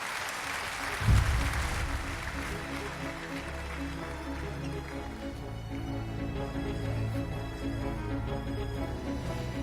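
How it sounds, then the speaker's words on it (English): Audience applause fills a large hall at the CAF football awards night, a steady sustained clapping with a loud burst near the start and music playing beneath it. "Round of applause."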